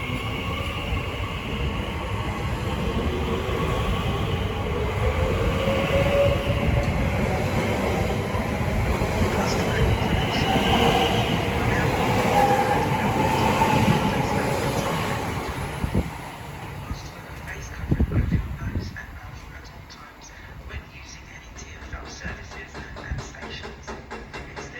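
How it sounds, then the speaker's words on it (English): A TfL Rail service from Reading to London Paddington pulls out of Ealing Broadway station, a steady loud rumble of wheels and motors running throughout, with sharper rail clatter and clicks toward the end. "And now departing is the 12:36 TfL rail service from Reading to London Paddington."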